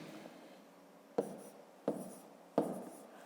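A pen taps and scratches on paper while numbers are written out for a fifth-grade division problem, three distinct strokes close by in a quiet room.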